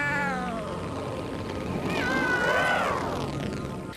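A cat meows and caterwauls, one long drawn-out rising and falling cry near the middle, close and loud, with a quieter murmur of room sound around it.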